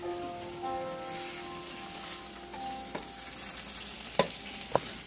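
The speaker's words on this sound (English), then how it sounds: "So I'm lightly frying some tofu" Tofu sizzles and crackles steadily as it lightly fries in a hot pan, with a few sharp clicks and scrapes of a utensil, close by and no talking.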